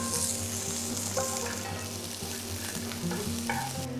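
Garlic, ginger, onion wedges and capsicum wedges stir-fry in hot oil in a pan, giving a steady, close sizzle with stirring noises throughout and faint tonal music underneath.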